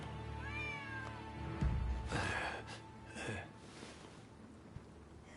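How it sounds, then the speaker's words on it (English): Stray cat meowing inside the video game Rise of the Ronin, a few short tonal cries rising over quiet ambient game background, moderately close, with no talk over them. "Who'd have thought a stray cat would wander in?"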